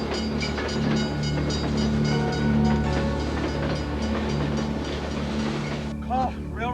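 A train rolls past steadily and loudly, with a low rumble and a layered mechanical hum, during an emergency near a railroad. Voices sound over it, and a brief squeal comes near the end.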